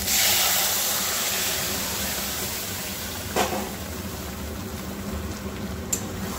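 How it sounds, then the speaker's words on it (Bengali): Pre-boiled mung dal poured into a hot pan for a bottle gourd and soybean dal, giving a broad steady hiss and sizzle that slowly fades, with a couple of sharp clinks partway through. "এরপর আগে থেকে সেদ্ধ করে রাখা ডালটা আমি ঢেলে নেব"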